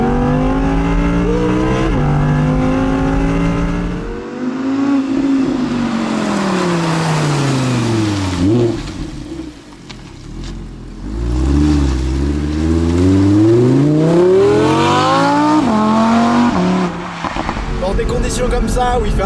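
Audi R8 V10 RWS on a winding road, its V10 engine roaring loudly and continuously from inside the car, pitch rising and falling through gear changes, with someone talking over it.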